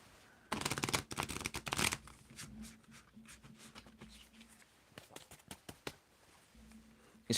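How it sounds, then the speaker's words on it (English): Thick tarot cards are shuffled nearby in a dense riffling burst, then a run of quieter scattered flicks and taps, with a faint low hum underneath. "These cards are really thick. They're hard to shuffle."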